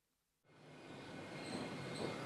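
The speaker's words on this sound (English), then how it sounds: "Our train is formed of a pair of 5-car Class 802 bi-mode multiple units coupled together" A Class 802 bi-mode multiple unit, two 5-car sets coupled together, rolls on rails, a steady broadband rumble that swells in suddenly and holds, with faint high wheel tones.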